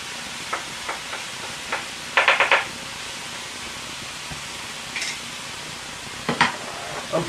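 Cauliflower rice frying in a pan, with a steady bright sizzle running throughout and a few scattered scraping stirs, one short cluster of quick scrapes in the middle, close and even in level.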